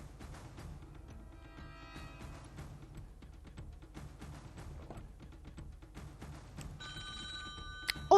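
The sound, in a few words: telephone ringing with a caller on a game show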